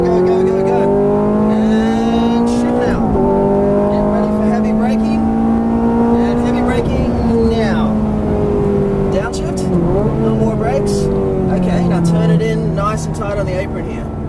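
A Ferrari F430 engine wails at high revs under hard throttle on a track, pitch climbing in long pulls with abrupt drops at each gear shift, loud and close with a voice talking over it.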